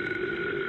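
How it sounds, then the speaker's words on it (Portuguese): A single short burp, a brief throaty eructation under half a second long, heard close and moderately loud with no talking. "Arrotos."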